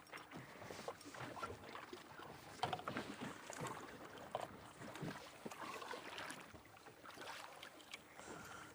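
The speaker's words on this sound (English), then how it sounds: "Instead of running the kicker, we're just running the trolling motor." Low, steady hum and water wash of a small boat moving under an electric trolling motor while fishing, faint and distant-sounding with some wind buffeting, no talking.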